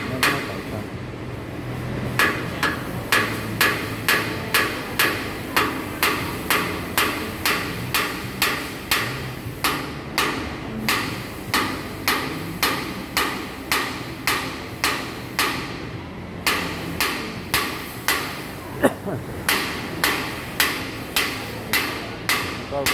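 Wheel hub nuts on a short-axle wheel hammered home with a long run of steady, evenly spaced metallic blows, loud and close with a faint ring after each strike.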